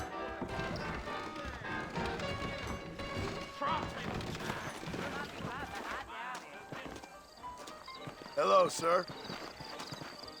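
Horse hooves clip-clop under Western music in the video game Red Dead Redemption, with horses saddled up and ready outside; someone speaks briefly over the steady hoof rhythm.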